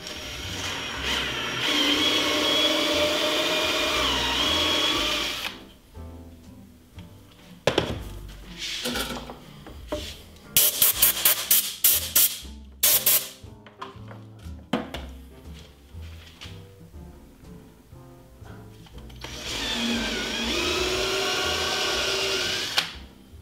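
A power drill bores mounting holes in an ACH helmet being modified to a high cut. Loud sustained whirring runs at the start and end, with short bursts, clicks and knocks from handling the tool in between.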